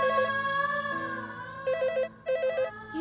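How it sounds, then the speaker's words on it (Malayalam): A telephone rings in a home, its electronic trill repeating in short bursts with brief pauses, fairly clear and with no talk over it. "ആരെങ്കിലും ഫോൺ എടുക്ക്"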